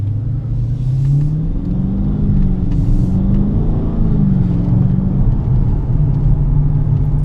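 A 2018 Dodge Challenger 392 Hemi R/T Scat Pack V8 drones loudly from inside the cabin while accelerating onto a freeway, a steady deep rumble with gently rising and falling pitch and no talking.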